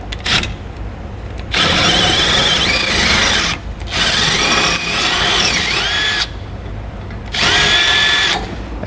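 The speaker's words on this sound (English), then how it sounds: "It should be easier to drill now, and then we'll drill it out." A power drill bites through the metal frame of a 2018 Forest River travel trailer in three loud, close bursts with pauses between, its high whine squealing as the bit cuts.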